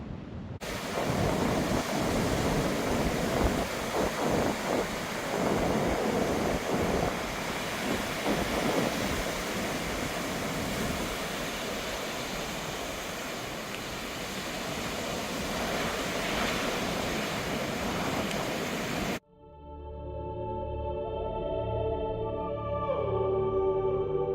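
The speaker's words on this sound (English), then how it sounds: "The Pacific Coast in California." Ocean waves on the Pacific Coast in California, a continuous roaring surf with rolling swells and wind buffeting the microphone, steady and fairly loud for about twenty seconds before cutting to music.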